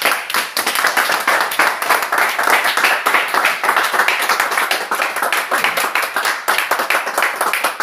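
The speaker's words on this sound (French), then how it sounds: "Applaudissons pour Joab." An audience applauds Joab, with steady, dense clapping that holds loud and close all the way through and never lets up.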